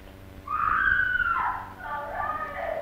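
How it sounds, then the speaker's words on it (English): A woman screams in a drawn-out, wavering cry that rises, dips and returns in a second shriek, loud and close, in an early sound film scene with no talk over it. "Why is she screaming like that?"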